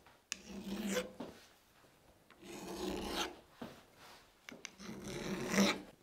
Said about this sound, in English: you can improve upon that by just going around and putting that chamfer on there